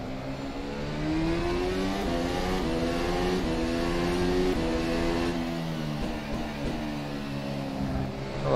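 A Formula SimRacing ACR Zakspeed single-seater in rFactor 2 pulls away from the pit lane at Montreal, its engine note climbing steadily through the gears and holding a loud, continuous drone throughout.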